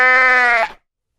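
One loud, close sheep bleat, a single nasal wavering cry that ends abruptly, followed by silence.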